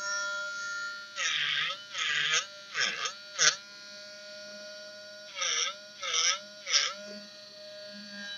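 Harbor Freight spark plug cleaner running at low speed, a steady high-pitched whine with a buzzing hum, broken by repeated surging bursts of blasting hiss as the plug is worked in, several in two clusters.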